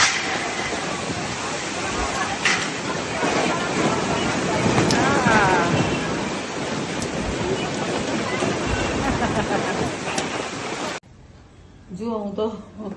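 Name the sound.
heavy rain with wind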